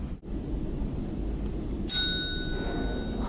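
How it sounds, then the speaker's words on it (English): An elevator bell in an office hallway gives one clear ding that rings on and slowly fades over a steady background rumble. "Love that bell."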